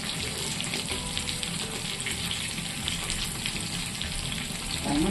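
Prawn 65 pieces fry in hot oil with a constant close sizzle and crackle, steady and fairly loud from start to end, with a slight swell at the very end and no talking.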